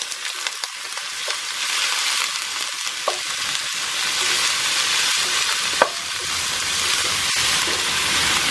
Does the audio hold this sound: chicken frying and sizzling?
yes